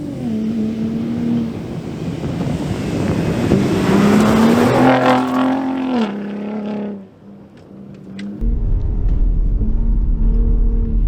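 Engine of a 2022 Ford Raptor pickup truck driving off-road, a loud sustained drone rising and falling with speed, briefly dropping off near the middle before surging back, with no talk over it.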